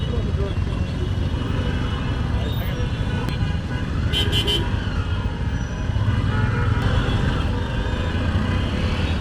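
Dense road traffic on a Dhaka street near a flyover, a continuous nearby rumble of engines with a short burst of car horn toots in the middle.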